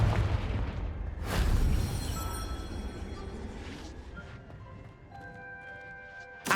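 A Confringo explosion spell in a video game, a sudden loud boom followed by a rumbling decay and a second sharper burst, then fading magical ringing tones, with no voices.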